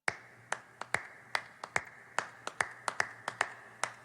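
Scattered, uneven handclaps ring out sharply, a sparse patter of applause rather than a full crowd.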